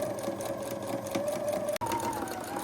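A sewing machine runs continuously at steady speed, top stitching a fabric Christmas tree napkin, its motor whir and needle hum close and even, with one brief stop near the end before it resumes.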